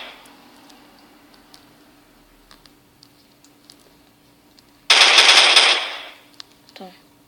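A machine gun fires in Garry's Mod on a portable tablet, one loud rapid burst lasting about a second after several faint taps and clicks. A short rising electronic blip follows it.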